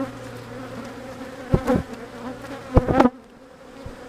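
Honey bees buzz steadily around an open hive during a split with queen cups being built, a close, continuous insect hum broken by a few louder bursts and brief handling bumps before it drops away.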